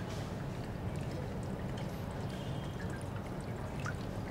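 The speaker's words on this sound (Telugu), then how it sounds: "కోల్డ్ వాటర్తో స్టార్ట్ చేస్తాం." Cold water pours steadily into a cooking pot, a continuous broadband rush and trickle with no talk over it.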